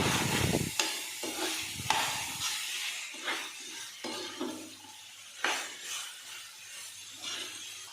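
Pepper chicken masala with coriander leaves being stirred in a pan, a loud burst of hiss at the start, then rhythmic scraping spoon strokes over a light sizzle, close by with no talk.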